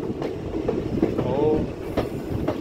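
A train rolls along rails through the Meghalaya hills on the Lumding route, a steady rumble with periodic clicks of wheels over rail joints and a faint metallic squeal rising midway.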